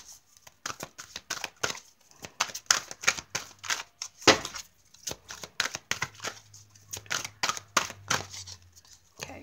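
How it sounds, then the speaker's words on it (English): Oracle cards shuffled by hand in rapid bursts of crisp riffling and slapping, close and fairly quiet, with brief pauses between runs and no talking. "let's keep shuffling."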